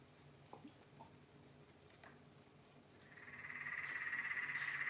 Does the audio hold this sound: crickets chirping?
yes